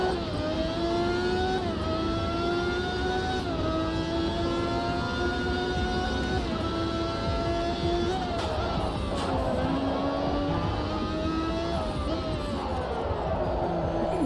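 A race car engine in a racing video game drones loudly and continuously, its pitch climbing through gear shifts and dropping under braking as the rear axle locks, with faint crowd noise underneath.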